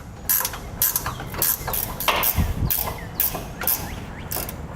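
Ratchet wrench backing out 13mm bolts on the passenger-side heat shield of a 2016 GMC Sierra 3500, above the tire: repeated bursts of quick clicking pawl strokes, close and clear, with no talk.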